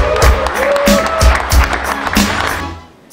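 A crowd applauds Thai boxer Kevin Haas at a world championship gala in Luxembourg, loud clapping layered over a pounding rhythmic music beat that fades out near the end.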